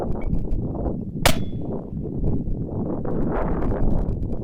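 A single sharp metallic clang from a 6.5 Creedmoor bullet hitting a distant steel target rings out once over steady wind noise outdoors, a bright ping that fades quickly.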